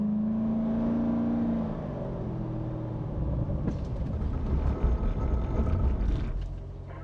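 A Corvette C7 on a driving-school track at Spring Mountain: a steady engine drone that swells into louder revving and tire noise as the car accelerates past, fairly close.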